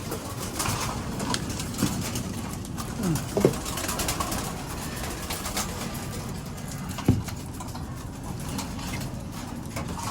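Soft, low pigeon coos repeat against a steady outdoor background, with a couple of brief louder chirps standing out.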